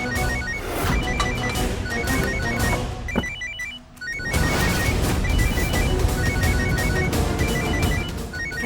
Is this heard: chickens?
no